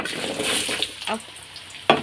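Potatoes frying in hot oil in a home Bengali kitchen, with bay leaf and cumin tempering, giving a steady close sizzle and crackle with stirring scrapes and a sharp clatter near the end.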